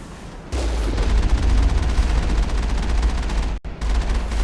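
Heavy gunfire from the video game Mass Effect 1, a loud sustained burst of rapid shots roaring continuously, cutting out briefly near the end before resuming.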